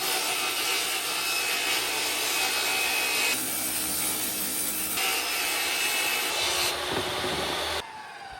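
Wood being ripped with a saw while building a tiny home, a loud continuous rasping cut that shifts in tone as the blade works through the board, then drops off near the end.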